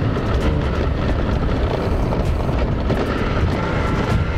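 A 1992 Piaggio Vespa PX125 scooter engine pulls hard in second gear, a steady loud drone with wind rush running throughout, close and continuous with no talking.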